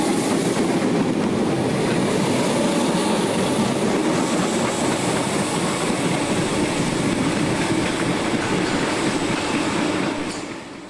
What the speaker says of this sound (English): On Platform 2 is 313113 on a Clapham to Euston service